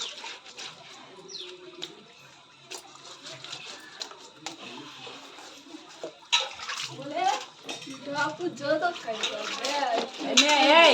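Water poured and splashing while fish is washed outdoors with a child nearby, intermittent running and splashing under frequent talking, including a voice, with light clinks of a pan.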